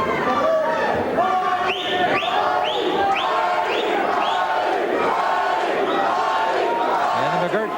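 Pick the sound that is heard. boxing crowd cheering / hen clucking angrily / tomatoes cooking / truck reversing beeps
boxing crowd cheering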